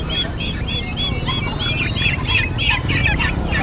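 Chickens cluck and chatter in short repeated calls, several birds close by, with background noise underneath.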